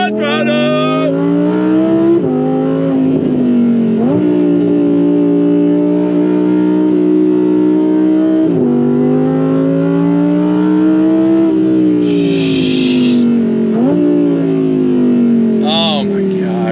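A modified Audi R8 Performance V10 accelerates hard through several gears, its loud engine note climbing in pitch and dropping sharply at each shift, heard from inside the car with brief talk at the end.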